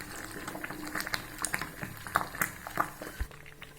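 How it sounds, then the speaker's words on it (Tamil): Thick halwa cooking with ghee in a pan, bubbling and popping with irregular soft bursts and small spatters, close and fairly quiet. "எப்படி கொதிக்குது பாருங்கள்"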